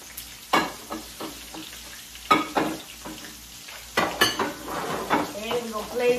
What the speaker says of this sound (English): We're going to fry all those up right there.